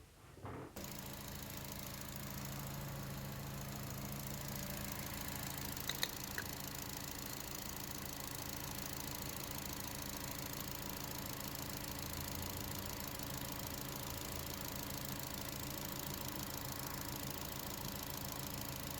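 A 2015 Chevy Cruze idles with its coolant cap off and the heater fan running on low, giving a steady, even hum and faint whir that continues unbroken, with a couple of small clicks partway through.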